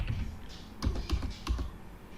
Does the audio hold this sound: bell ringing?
no